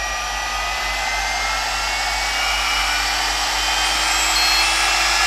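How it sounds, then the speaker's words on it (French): A GHD Duet Style hot air styler blows a steady, close, fairly loud hair-dryer whoosh with a high airy hiss and a low motor hum, holding constant without talk. "il fait un bruit comme un sèche-cheveux"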